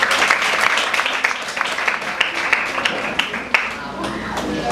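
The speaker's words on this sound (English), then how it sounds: "A round of applause, please." A classroom audience claps for the opposition debate team, sounding as brisk, fairly close applause with distinct individual claps throughout the short burst.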